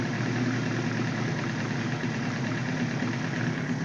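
A 1978 Suzuki GS1000C motorcycle engine idling after a carburetor cleanup, a steady, close mechanical rumble with even firing and no gaps.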